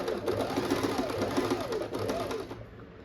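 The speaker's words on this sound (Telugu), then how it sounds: "మనం ఫస్ట్ ఈ టక్ని ఫస్ట్ స్టిచ్ చేయాలి." A sewing machine runs steadily, stitching a tuck on a deep-neck blouse, with a fast, even mechanical whir that stays close and continuous for about two and a half seconds before easing off.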